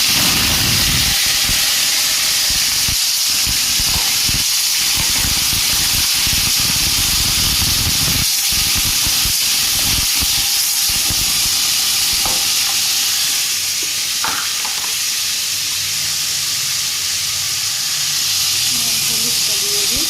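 Vegetable curry hits a hot pan and sizzles loudly, a dense, continuous frying hiss with stirring scrapes and clatter, fading somewhat toward the end.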